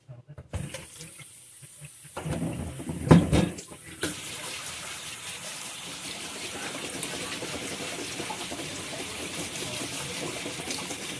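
Tap water gushes steadily into a sink while mushrooms are washed, a continuous close splashing stream after some brief handling knocks and a short voice at the start.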